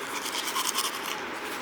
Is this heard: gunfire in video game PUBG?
no